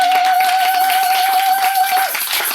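A church congregation at a Sunday service applauding, a dense continuous wash of many hands clapping together, with a sustained tone ringing through it until it drops away near the end.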